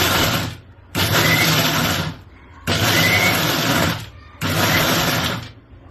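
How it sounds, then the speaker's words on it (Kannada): A kitchen mixer grinder whirs in three loud bursts while grinding peanut chutney powder, each run a few seconds long and separated by brief pauses as it is switched off and on again. "ಈಗ ಇದನ್ನ ನಾವು ಮಿಕ್ಸ್ ಮಾಡ್ತಾ ಆಫ್ ಆನ್ ಮಾಡ್ತಾನೆ ಇರಬೇಕು."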